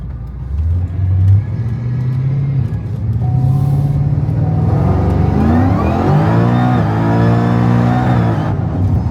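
A Cadillac CTS-V engine accelerates hard, its pitch climbing through a long rising rev with a gear change partway, loud and close from inside the car. No one speaks.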